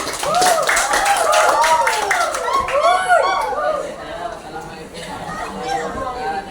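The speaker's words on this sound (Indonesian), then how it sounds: "kasih aplaus untuk Ananda Reza" Classroom clapping for a student's presentation mixes with lively children's chatter and voices, fairly close and continuous, fading slightly toward the end.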